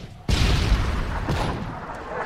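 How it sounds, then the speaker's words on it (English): A Predator missile explodes in Call of Duty MW3 with one sudden, loud, broadband boom that rolls on as a sustained rumble of blast and gunfire. "Friendly Predator missile inbound."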